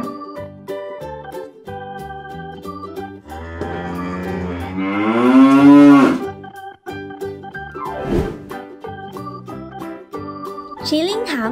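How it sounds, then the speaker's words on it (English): A Galloway cow moos loudly in a long, drawn-out low call over a steady background of music, with shorter animal sounds before and after. "Galloway cattle."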